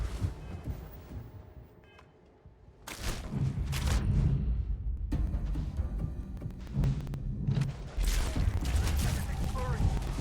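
Gunfire from the sci-fi shooter game Starfield, dense rapid bursts starting after a quiet opening and continuing loud and close with a brief gap, layered over game music and ambience.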